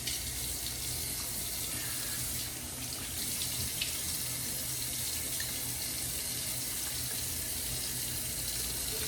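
A bathroom tap runs steadily while someone wets their face during a shave, a close, continuous splashing hiss of water into a sink that barely changes and has no talk over it.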